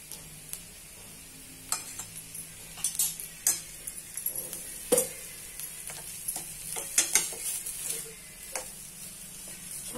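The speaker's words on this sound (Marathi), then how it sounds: "कसा छान खमंग होतोय हा बटाट्याचा शिरा।" Potato sheera roasts in a pan as a spoon stirs it, with a soft background sizzle broken by irregular scraping and clinking strokes.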